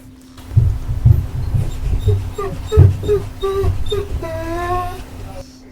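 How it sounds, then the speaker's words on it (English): A dog whining and grunting close by, a series of high, wavering whimpers and moans rising toward a drawn-out whine, over low grunts and a steady background hum. "I should keep all those dog noises your dog made, just whining and grunting"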